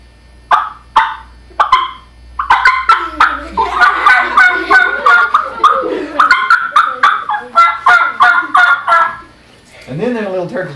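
A voice imitates a turkey hen's call, starting with a few sharp yelps and then running into a long, loud, rapid series of calls. A short spoken bit comes at the end.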